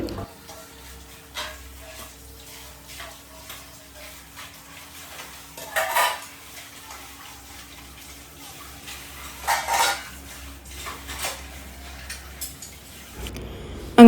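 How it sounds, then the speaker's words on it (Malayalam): Dishes and cutlery clink and clatter intermittently at close range, with a few louder scrapes and clanks over a low steady hum. "ഞാൻ വന്ന് പാത്രങ്ങളൊക്കെ കഴുകി എടുത്തുകൊണ്ടിരിക്കുകയാണ്"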